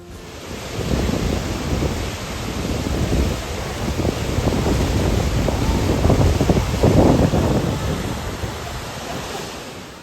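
A swollen, muddy river running high and fast after snowmelt, producing a steady, dense roar of rushing water that stays loud and continuous throughout, with no voices.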